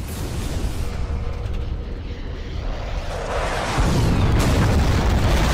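Missile explosions in an animated war scene come as a continuous loud rumbling roar that swells into a heavier booming blast near the end, with no voices over it.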